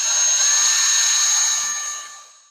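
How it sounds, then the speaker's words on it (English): A power drill with a 6mm bit whines steadily at high pitch, close and loud, drilling out holes for a VW California pull-out kitchen hinge, holding for a couple of seconds before winding down as it finishes. "I'm just going to use a 6mm to drill these out"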